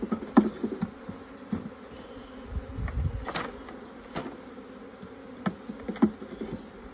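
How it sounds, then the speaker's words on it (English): Package honeybees buzzing close by during hive installation, a low hum with individual insects droning past the listener in brief louder swells. "there are a lot of bees flying around"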